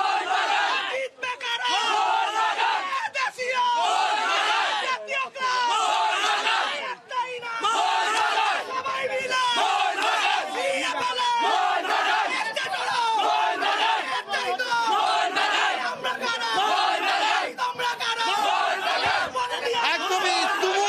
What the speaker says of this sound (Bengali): আমি একটু সকলের থেকে মোহনবাগান নিয়ে একটু স্লোগান শুনতে চাইবো।